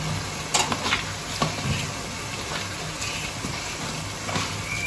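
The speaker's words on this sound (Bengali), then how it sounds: "মশলাটা কষাতে কষাতে আমি মোচাটাকে একটু খুব ভালো করে চটকে নিচ্ছি।" Banana blossom is mashed and stirred with spices in a hot pan, giving a steady close sizzle under soft scraping and squelching stirs, with no talk.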